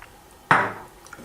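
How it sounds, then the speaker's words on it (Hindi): A lid lands on a cooking pan of Afghani Qabuli palao set on a low flame, giving a single sharp metallic clank that rings briefly and fades, with quiet kitchen background around it. "मैंने अब इसको कवर कर दिया है।"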